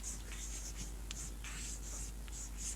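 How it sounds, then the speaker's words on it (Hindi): Chalk or marker scratching across a classroom board in short strokes and pauses, heard close over a constant low hum with no speech. "लिख दे रहा हूँ यहाँ पर"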